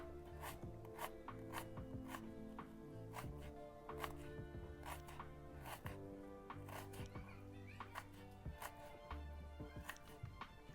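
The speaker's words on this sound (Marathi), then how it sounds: "राहिलेलं कांदा असंच कापून घेऊया" A small onion is cut with a knife in a home kitchen. Quick, light knife taps against a board repeat in uneven runs, close by but very quiet.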